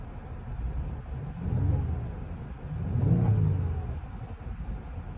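A Genesis G80 3.3t twin-turbo V6 fitted with DIY intakes idles in neutral, then gets two throttle blips that swell into throaty rising revs and fall back to a steady rumble, heard from inside the car.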